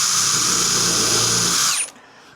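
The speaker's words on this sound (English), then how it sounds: "so I'll drill up from underneath." Power drill boring upward from underneath into a wooden base piece in a woodworking shop, a loud steady whine that runs alone for nearly two seconds, then winds down and stops abruptly.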